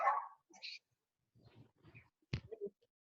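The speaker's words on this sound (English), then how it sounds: "There's another dog outside, so you'll have to excuse them." A dog barks outside, a few faint, scattered yips and barks separated by quiet gaps, muffled and distant from indoors.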